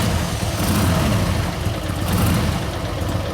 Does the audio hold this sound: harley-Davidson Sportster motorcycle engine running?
yes